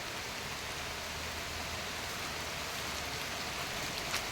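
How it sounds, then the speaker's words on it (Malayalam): Steady, dense rain pours down without pause, a constant hissing wash of drops with no other sounds. "നല്ല മഴ സ്ട്രോങ് ആയിട്ടുണ്ട്"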